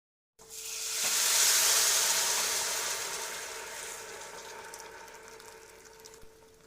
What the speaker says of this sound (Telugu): ఇలా ఉడికిన ఈ పప్పుని పోపు చేసిన గిన్నెలోకి వేసుకోవాలి